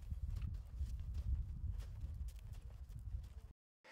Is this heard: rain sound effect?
no